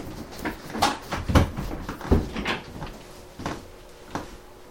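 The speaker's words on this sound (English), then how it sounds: "let's close the doors" Indoor doors are pushed shut with a series of thumps and clunks at an uneven pace, close by and fairly loud, with no talking.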